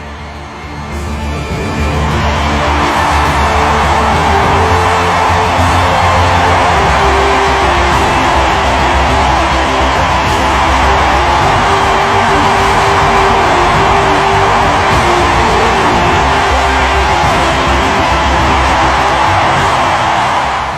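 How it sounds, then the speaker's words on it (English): A large arena crowd roaring and cheering wildly at a warrior's victory, a dense, loud, sustained wall of voices that swells in after a quiet start and holds steady to the end. "The crowd went wild, for this was the moment of the Juggernaut's victory."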